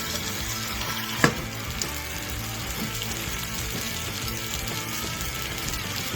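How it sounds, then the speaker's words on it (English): Eggs fry in a warmed non-stick pan coated with spray, giving a steady close sizzle and crackle throughout, with a brief scrape near the start and no talking. "your pan's nice and warmed up. And go ahead and throw half of the eggs in."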